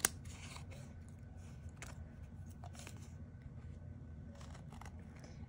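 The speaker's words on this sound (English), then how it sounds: "We're going to take our paper snips, flip it over here, just trim off the excess on the sides." Quick, crisp snips of paper snips trimming excess edges off a paper card, several irregular cuts over a steady low background hum.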